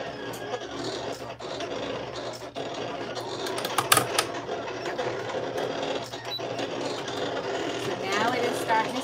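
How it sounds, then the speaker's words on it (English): A home embroidery machine stitches down green appliqué fabric on a Christmas dish towel, its steady rapid needle chatter running continuously at moderate level, with a soft voice talking over it. "So now it is starting to stitch"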